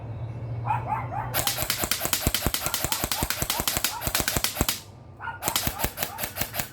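An airsoft AEG fires rapid, evenly spaced sharp shots in a long burst, pauses, then resumes with another quick string, loud and close over faint background.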